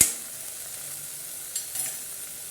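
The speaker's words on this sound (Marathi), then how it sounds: "त्यानंतर आता मी इथे जिंजर गार्लिकची पेस्ट ॲड करणार आहे" Ginger garlic paste hits hot oil in a frying pan for rajma sabji, giving a steady soft sizzle with a sharp hiss at the start and small crackles later.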